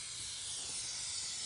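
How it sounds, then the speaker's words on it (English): Steady, close hiss of a Dupli-Color Perfect Match automotive spray paint can being sprayed, a continuous airy spray with no pauses, heard alone. "Whenever spraying, just hold the can about 8 to 10 inches from the surface."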